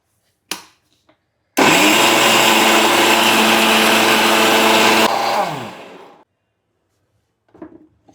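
An electric mixer grinder pureeing onion into a paste for a hair mask: a loud, steady high-pitched motor whine runs about four seconds alone, then winds down gradually, framed by small clicks and handling noises.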